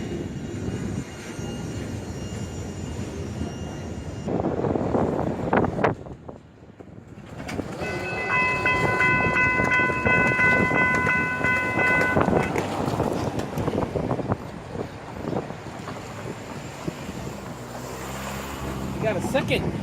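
FEC freight train rolling past on railroad tracks, a loud sustained rumble and rattle of passing cars, with a brief dip partway through and a tonal horn-like whine during the middle section.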